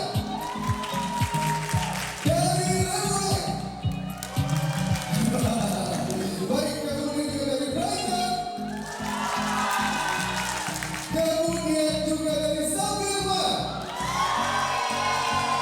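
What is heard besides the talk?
audience applause and cheering at event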